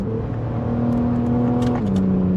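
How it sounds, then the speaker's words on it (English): A 2014 Ford Taurus SHO with a faulty knock sensor revs under throttle, a loud close engine drone holding a steady pitch, then dipping slightly near the end. "So I'll kind of get on the throttle here"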